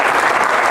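Stand-up comedy audience clapping in a brief, loud, dense burst of applause with no voices over it.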